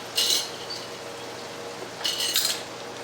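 A utensil stirs garlic in a cooking pan while making beef and bean chimichangas, giving two short bursts of scraping and clinking a couple of seconds apart over a quiet background.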